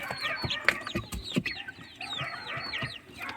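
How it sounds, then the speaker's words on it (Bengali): Tiger chickens and smaller local desi chickens clucking together in a backyard flock, a steady chatter of overlapping clucks and short calls at moderate distance. "টাইগার মুরগি আর দেশি মুরগির সাথে দেশিগুলোও আছে"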